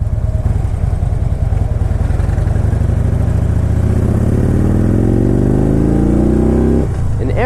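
A Harley-Davidson with the 103 engine pulls hard in third gear on the road, its loud, close V-twin rumble climbing steadily in pitch as it accelerates before easing off at the end.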